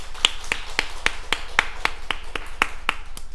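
A church congregation claps in unison during a service, sharp, evenly spaced claps keeping a brisk, steady beat with no talking over them.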